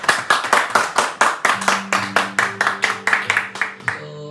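A group applauds a teacher, clapping in a steady, rhythmic unison beat that carries on for several seconds, with voices sounding faintly alongside the claps.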